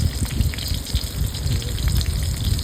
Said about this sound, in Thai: เจียวกระเทียมให้หอมสักหน่อยครับ